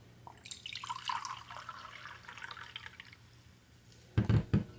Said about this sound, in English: I'm going first to fill up my clay pot.